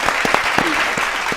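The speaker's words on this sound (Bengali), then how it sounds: "জোরে হাততালি একবার" Brief burst of audience applause on a televised quiz show, a dense close patter of clapping lasting just over a second.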